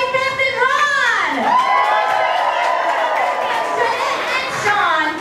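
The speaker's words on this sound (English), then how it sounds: "please give a nice round of applause" Audience at a Disney's Hollywood Studios backlot tour show cheering, whooping and shouting with scattered applause, a loud continuous crowd roar with children's high voices rising above it.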